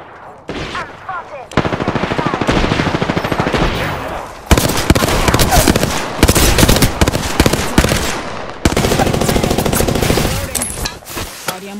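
Rapid automatic gunfire bursts in the video game Apex Legends, loud and close, coming in several long volleys separated by brief pauses, with no talking.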